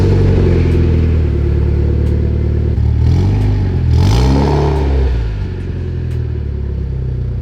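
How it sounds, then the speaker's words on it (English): A Mitsubishi Evo X with an ETS single-exit exhaust starts cold and idles with a deep, loud rumble, then revs up and settles back through rising and falling engine sweeps, close to the exhaust. "get a little cold start for the boys, and then yeah, go for a rip, show you guys how she sounds"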